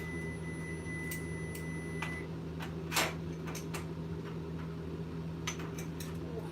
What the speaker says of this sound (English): My microwave's like, don't forget, it's been a minute.